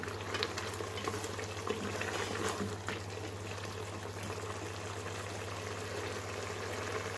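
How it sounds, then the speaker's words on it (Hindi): Mutton karahi bhuna over a high flame, a steady close sizzle and crackle of meat frying in a wok with occasional stirring scrapes, continuous and fairly loud with a low hum beneath and no talking. "अब हम इसे भून लेंगे इसी तरह तेज़ आंच पे"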